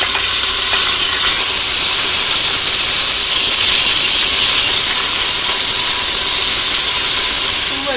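Beef browns in the pot of a Cookeo multicooker with a loud, close, continuous sizzle and hiss that holds steady throughout, with no talk.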